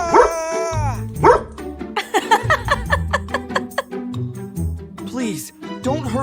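A dog barks and yips in short, rapid bursts, mixed with excited human talk and playful vocal sounds throughout, close and fairly loud.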